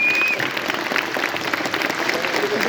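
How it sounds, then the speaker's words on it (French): Brief burst of audience applause at a geek conference, steady clapping from a seated crowd filling the short moment, with a faint tone briefly audible at the start. "Applaudissements pour Patrick"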